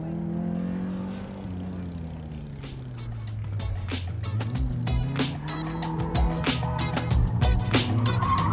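An MEV Exo kit car engine revs and roars nearby while tires squeal in repeated bursts as it drifts at a kit car show, with a steady rumble underneath throughout.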